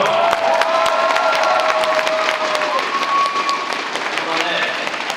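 A crowd at a badminton league match applauds and cheers steadily as players are introduced, with an announcer's voice carrying over the noise and sharp squeaks and clicks from the court.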